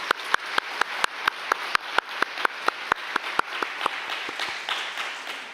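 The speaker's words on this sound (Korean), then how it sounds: "우리 박수로 환영하겠습니다." A congregation at a church service claps to welcome a pastor's wife and her three young daughters, a crisp rhythmic unison beat of regular claps over a softer wash of scattered applause that thins toward the end.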